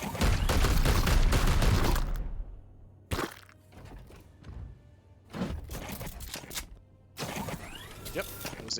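A weapon fires in Warhammer 40,000: Chaos Gate - Daemonhunters, with a loud opening burst followed by several shorter blasts and mechanical clunks separated by brief quiet gaps.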